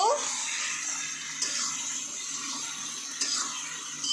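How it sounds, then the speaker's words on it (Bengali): A steady, close rush of water pours into a cooking pot of potatoes and vegetables, continuous and fairly loud throughout, with a couple of brief splashy surges. "এখন আমরা একটু পানি দিয়ে দিব"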